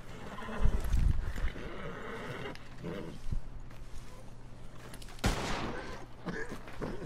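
A horse whinnies in Red Dead Redemption 2 during a crew event, with hoof clip-clops and bursts of gunfire around it, loud and close in a busy game scene.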